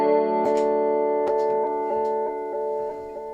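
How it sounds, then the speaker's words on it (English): Electric guitar through a dimension chorus effect pedal, sustained chords with a shimmering, wide tone, restruck several times and ringing out steadily without talk. "Here's a dimension chorus."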